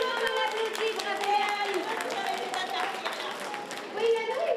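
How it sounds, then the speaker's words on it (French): An audience at a family fair in Saint-Hyacinthe applauds steadily, a warm continuous patter of many hands clapping at moderate distance, with voices chattering and calling out over it throughout. "Bravo, on l'applaudit, bravo."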